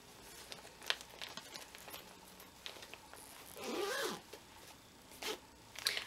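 A knitting project bag's zipper being pulled closed with a zipper pull, a soft rasping zip of a few seconds, close and fairly quiet, with faint handling rustles before and after.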